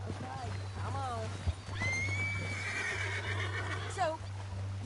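A horse in the video game Red Dead Redemption 2 neighs in a long, rising whinny, followed by a shorter snort-like call, over a steady low hum with a voice speaking nearby.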